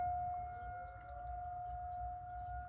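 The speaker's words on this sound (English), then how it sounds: "Sirens outside" A steady siren drones outside, faint and distant, holding a continuous tone for the whole stretch over low background rumble.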